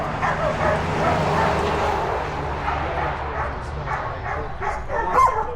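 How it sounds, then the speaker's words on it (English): A wary dog barks aggressively at a pushed lawnmower in a run of sharp yips under steady background hum, a few barks rising louder toward the end; no talking. "She's kind of barking at it."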